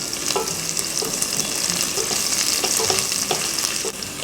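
Green chillies and curry leaves frying in hot oil for tiffin sambar give a steady, dense sizzle close by, with faint stirring clicks throughout and a brief knock at the end.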